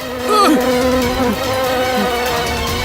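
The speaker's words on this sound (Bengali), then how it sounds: "মাছি মাছি।" A housefly buzzes close by in a Bangla crime drama scene, a steady droning whine with a few pitch swoops as it moves, continuing throughout without talk.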